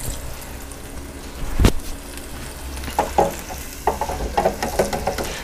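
Bacon being fried for chicken fried bacon sizzles in a pan with a soft, steady crackle, broken by a sharp clack and then bursts of louder spattering and stirring toward the end.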